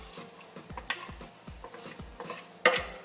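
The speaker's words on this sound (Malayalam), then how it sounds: "എന്നിട്ട് നന്നായിട്ട് യോജിപ്പിക്കാം." Egg Maggi noodles being stirred together with a prepared mix, giving a steady run of soft scraping strokes with faint sizzling between them and a sharper clink of utensil against the pan near the end.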